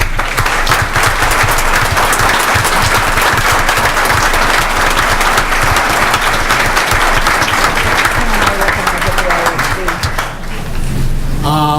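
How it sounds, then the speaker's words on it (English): A school board meeting crowd gives a sustained round of applause for three Teachers of the Year, loud and dense throughout, easing slightly near the end as a voice begins. "can we give them a round of applause?"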